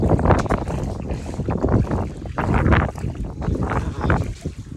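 Strong gusty wind on top of Digos Hill in the Philippines buffeting the microphone, a loud continuous rumble that swells and eases throughout.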